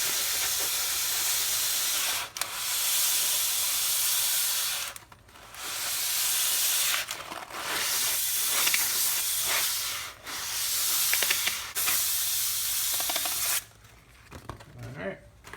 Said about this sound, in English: I'm just going to scuff up the rotor a little bit to get any old material off the surface of the rotor.